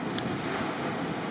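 Ocean surf at Lacanau beach at sunrise, a steady loud wash of breaking waves mixed with wind noise, no voices.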